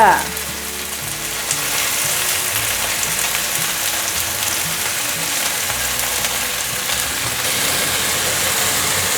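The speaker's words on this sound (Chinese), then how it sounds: "另一面也让它继续煎成焦黄色" Tofu skin rolls frying in a lightly oiled pan until golden, a steady close sizzle and crackle lasting throughout after a brief thump at the start, with a low hum beneath.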